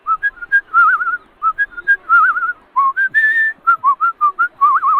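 A cartoon character whistling to a bird, a lively run of short chirpy whistled notes and warbles, close and clear with brief pauses between phrases.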